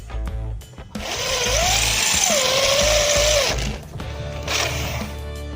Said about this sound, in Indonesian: Oke, sekarang kita bor ya.